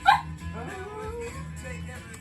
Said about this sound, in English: Dog, I don't know what you're fucking looking for underneath there, but it's probably not yours, and I'm not stopping for your whining.